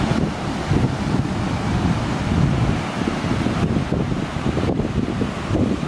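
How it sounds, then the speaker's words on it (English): Strong wind roars steadily across Cocoa Beach, buffeting the microphone with a dense, continuous low rumble and a faint wash of surf beneath. "Super windy today, guys."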